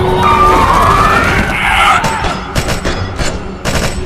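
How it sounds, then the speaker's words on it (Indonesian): Several loud, sharp gunshots crack out in an irregular rapid series in a zombie film, over a chaotic, noisy background, with high wailing or screaming cries early on. "suara tembakan terdengar di mana-mana."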